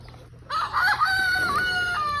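A rooster crows once, a long wavering call close by, with faint clucking chickens in the background.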